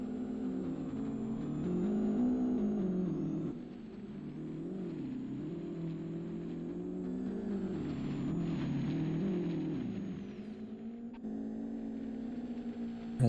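Race cars in the racing sim Live for Speed warming up on track, engines droning and revving up and down continuously, one car louder and closer, pitch shifting as they accelerate and ease off.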